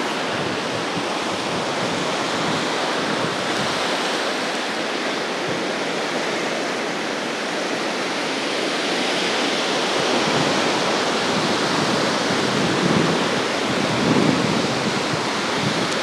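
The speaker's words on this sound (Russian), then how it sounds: "морской прибой" Sea surf rolling onto the central beach at Anapa: a continuous, loud, broadband wash of breaking waves with gentle swells in intensity, steady throughout with no voices.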